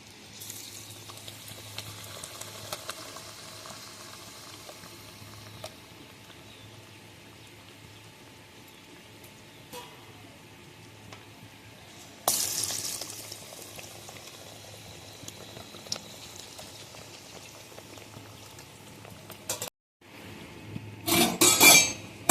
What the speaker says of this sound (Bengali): তেল তো গরম হয়ে গেছে, তাহলে বেগুনি ছেড়ে দেবো।